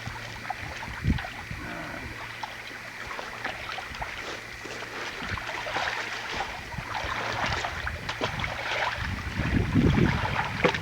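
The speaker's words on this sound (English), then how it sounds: "Well, look at that boat coming." A boat approaches on Lake Clark, Alaska, its engine a steady, low drone against gusting wind and lapping water that swells louder toward the end.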